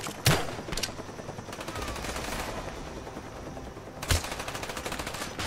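Turret gunfire in Call of Duty Black Ops: two sharp, loud bursts of rapid automatic shots, one near the start and one about four seconds later, with a quieter stretch of steady game noise between them.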